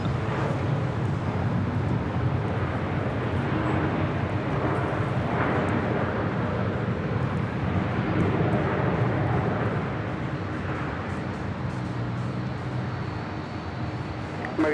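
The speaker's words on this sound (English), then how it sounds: "This is Delta Airlines 473 departing to Nashville on a 737-900 ER" Delta Airlines Boeing 737-900ER, flight 473 to Nashville, departing Los Angeles International Airport, a steady loud jet roar that holds for the whole stretch with wind buffeting, easing slightly near the end.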